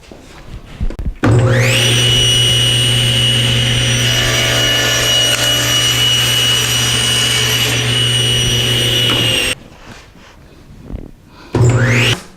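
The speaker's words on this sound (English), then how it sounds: "I'm going to use my table saw sled, and I'm going to cut one end, all of the ends on one side, nice and square" Table saw with a sled crosscutting the ends of long wooden posts for a bookcase: a loud, steady whining spin-up and cut lasting about eight seconds, then a brief second burst of the running saw near the end.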